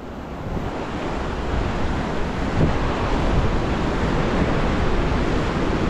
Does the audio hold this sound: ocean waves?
yes